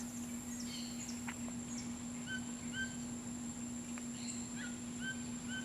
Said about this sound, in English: The insect life.